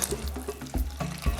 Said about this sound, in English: Right, I'm gonna add a bit of water.